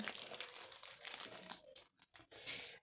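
Paper envelopes about 22.5 by 16.5 cm are handled at close range, giving a steady run of crinkling and rustling that breaks off briefly near the end before resuming.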